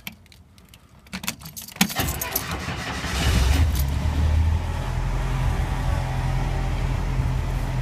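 A car is cold started with the clutch held down: keys jangle close by, the starter cranks, and the engine catches and settles into a steady, low rumbling idle.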